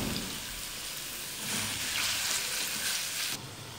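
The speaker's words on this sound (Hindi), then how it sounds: "चिकन को इतना फ्राई करना है कि इसका कलर चेंज हो जाए" Chicken fries in a pan with a loud, steady hiss and crackle that holds close and continuous, swelling slightly midway before easing a little at the end, with no speech.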